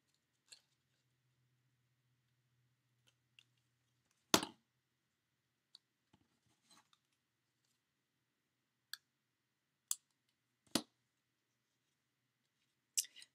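Scissors trimming paper for a handmade card: a few sparse, sharp snips and clicks spaced across a quiet stretch, close and isolated with no talking.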